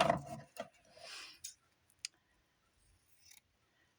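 Scissors trimming a blue-and-white sewing project give a quick run of close, crisp snips at the start, then a few isolated faint clicks and handling sounds in near silence.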